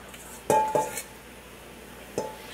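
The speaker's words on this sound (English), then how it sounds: "we're going to take all of the noodles, add them into the pan" Noodles tipped into a pan of half-cooked eggs for gluten-free chicken pad thai, giving two close clattering knocks of pan and utensil followed by a third later, with no talk.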